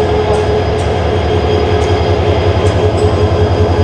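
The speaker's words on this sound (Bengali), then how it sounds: "এই যে মোহনগঞ্জ এক্সপ্রেসের লোকোমোটিভ, এই যে আপনাদেরকে দেখায়, এই যে 2900 সিরিজের একটা লোকোমোটিভ।" Mohonganj Express hauled by a 2900 series locomotive gives a loud, steady rumble of rolling stock with faint clatter and light squeals on top, heard close and without any talk.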